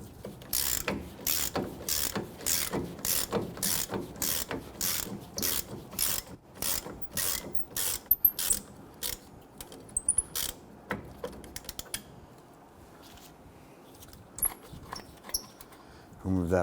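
A ratchet loosening the caliper bracket bolt on a Nissan Frontier's rear brake, rapid rhythmic clicking in regular bursts up close, then slowing to scattered clicks and handling noises.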